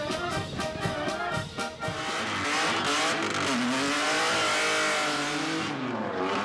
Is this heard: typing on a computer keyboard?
no